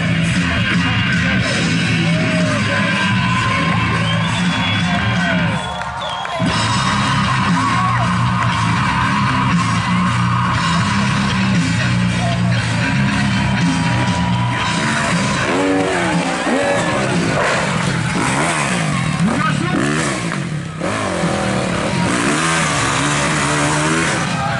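Motorcycle in a stunt show, revving hard on the ramp jumps while a crowd yells and whoops and a loud announcer talks over the noise throughout.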